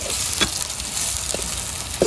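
Onion and garlic sizzle in hot oil in a wok, a steady bright frying hiss with a few soft stirring clinks.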